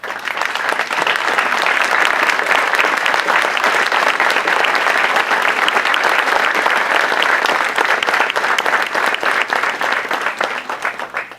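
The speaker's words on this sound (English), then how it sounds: "so we can give you a round of applause" Loud, sustained applause from a large audience at Hempstead Mayor Wayne Hall's 2015 State of the Town address, dense continuous clapping that holds steady for several seconds before easing slightly.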